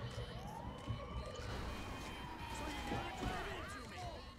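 An ambulance siren wails in the Grand Auto 5 video game, rising and falling in sweeping tones over a dense bed of game noise, moderately distant and fairly quiet.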